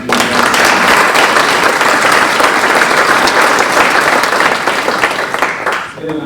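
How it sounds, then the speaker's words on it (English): A room of attendees at a community foundation's fall grant celebration applauds, a loud, dense burst of clapping that holds steady for several seconds, then thins and fades out near the end. "give yourselves a little round of applause here"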